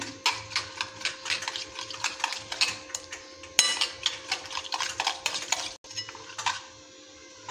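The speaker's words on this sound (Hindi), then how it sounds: "तो अब मैं इसमें कॉर्नफ्लावर डाल के तो पहले इसको अच्छी तरह से मिक्स कर लूँगी" A spoon stirs ground moong dal batter with cornflour in a bowl for crispy pakoras, a steady run of soft scraping and clinking strokes nearby that stops near the end.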